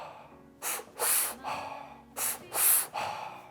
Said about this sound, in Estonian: Ehk siis, et me hakkame hingama kõhtu, siis rinda ja siis hingame suu kaudu välja